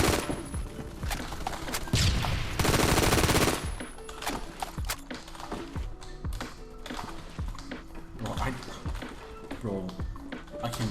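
Rapid automatic fire from a SCAR HAMR with a 9mm conversion in the shooter Phantom Forces, bursts of fast cracking shots over game sounds, with talk mixed in between the volleys.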